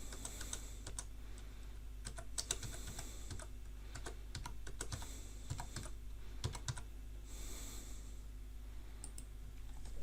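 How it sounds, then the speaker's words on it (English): A computer keyboard is typed on up close as a controller ID is entered, giving bursts of crisp key clicks in uneven runs over a low steady hum. "It's only a matter of typing in that unique ID number into"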